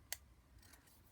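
A single quiet snip of scissors trims paper for a junk journal, with a fainter cut near the end, all close and soft in a quiet room.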